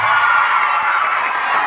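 Steady, loud cheering from a big crowd of Nara locals welcoming a visitor, with massed voices whooping in a continuous roar and no pause throughout.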